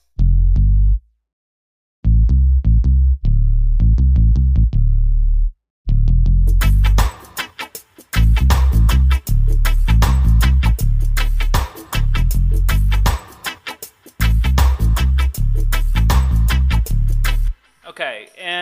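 A palm-muted sub bass instrument rack plays a reggae MIDI line, deep plucked bass notes in a choppy offbeat rhythm, loud and alone, with brighter layers joining partway through.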